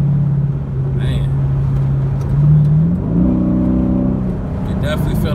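Dodge Charger SRT8 on a highway, its engine and exhaust holding a steady low drone that rises in pitch as it accelerates, loud and close, with speech faintly present.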